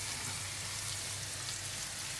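Quartered cherry tomatoes, some yellow, sizzle in a hot pan, giving a steady, quiet hiss of frying with no voices.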